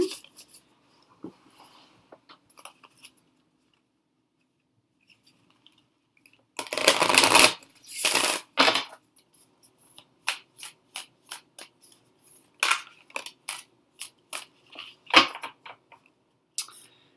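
Crisp riffling bursts of cards being shuffled close by, followed by a string of sharp taps and flicks as the deck is squared and cut.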